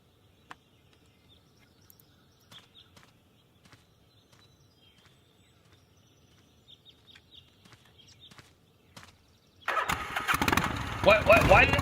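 A motorcycle engine starts in the adventure game Gabriel Knight 3, bursting loudly to life near the end. Quiet, sparse ambient ticks and faint sounds come before it.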